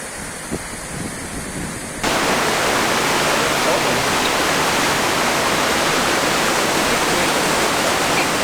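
The Cascata della Soffia waterfall roars loud and close, a broad, unbroken rush of water that surges in after about two seconds of quieter outdoor sound with faint talk.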